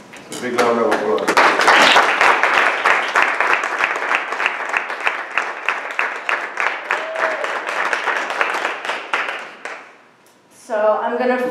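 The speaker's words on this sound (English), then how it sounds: "Big round of applause." Audience applause at a Sattvik cooking class after a closing chant, a dense, steady clapping from many hands lasting about ten seconds before fading out, with speech resuming right after.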